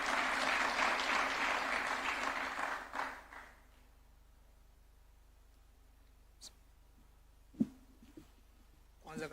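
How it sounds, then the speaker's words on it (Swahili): An audience at State House in Nairobi applauds a football team captain of Nairobi United FC, dense clapping for about three seconds that fades into near silence, broken by a few faint clicks and knocks. "Tumpigie makofi akija."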